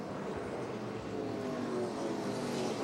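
NASCAR race cars running around a half-mile oval during the Toyota All-Star Showdown, a steady loud roar of engines blending into one continuous drone without talk.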